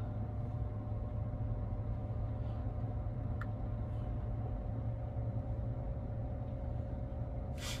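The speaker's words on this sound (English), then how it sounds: "the HVAC fans are running, getting the battery to the right temperature" A 2024 Tesla sits charging while its HVAC fans run to heat the battery, a steady low droning hum with faint tonal whine, constant and unbroken throughout, with no talking.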